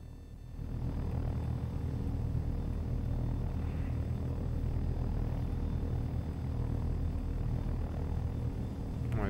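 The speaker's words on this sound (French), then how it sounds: "Slowly raise the collective until the chopper is light on its skids. Slowly increase collective to enter into a steady vertical climb." A helicopter in the game Take On Helicopters lifts off, its engine and rotor making a steady, loud, continuous droning rumble that starts abruptly and holds level.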